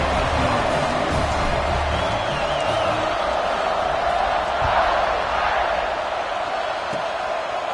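A football stadium crowd lets out a continuous, dense roar before a kickoff late in a game, loud and steady throughout with no pause.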